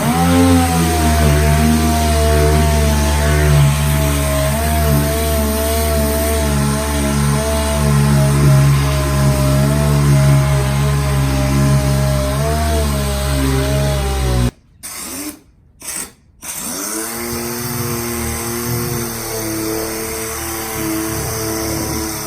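A power sander working over arcade cabinet bodywork during a basketball arcade restoration, running with a steady buzzing motor drone, then briefly stopping and restarting near the end.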